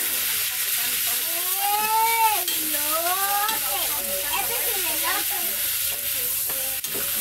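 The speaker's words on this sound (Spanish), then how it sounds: "ya lo voy a dejar que se fría la cebolla y el jitomate solito" Meat frying with chopped tomato and onion in a pan gives a steady bright sizzle and hiss throughout, with a voice talking over it in the middle.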